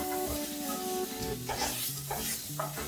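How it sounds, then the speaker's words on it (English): A spoon stirs tomato paste into seasonings in a pan, making soft, close scraping and a gentle sizzle across a few seconds with no talking. "Stirring it in with all of my wonderful seasonings"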